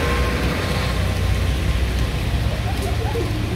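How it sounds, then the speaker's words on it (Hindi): Steady, dense patter of rain in Patna, India, filling the background with a constant broadband hiss, fairly loud and unbroken throughout. "फिर से बारिश स्टार्ट हो गया"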